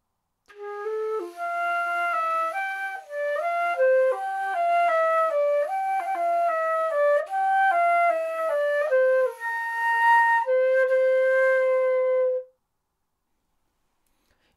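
A solo flute plays the first phrase of a piece, a clear, close melody of stepping notes ending on a long held tone, followed by silence.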